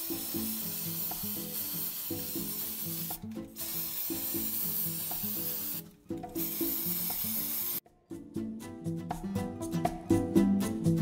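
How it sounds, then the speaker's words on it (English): Copper spray paint hisses from an aerosol can onto drinking straws in short bursts with brief pauses between, fairly close, over faint background music. "So I'm using this copper spray paint and I'm just going to spray paint those straws."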